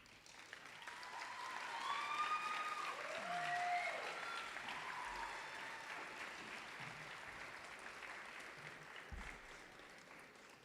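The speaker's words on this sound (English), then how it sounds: "one more big round of applause." Audience applause fills a school senior awards assembly, a steady wash of clapping from a large crowd that swells and then slowly tapers, with faint background voices underneath.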